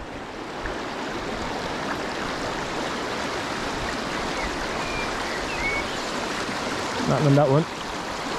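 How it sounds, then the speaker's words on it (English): A fast-flowing river rapid on an Irish wild brown trout river rushes steadily and loudly close by, with a brief spoken remark near the end. "Water's flowing very fast."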